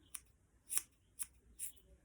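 Rounded scissors snipping a yarn pom-pom, four quiet crisp cuts spaced about half a second apart, close up with no talk.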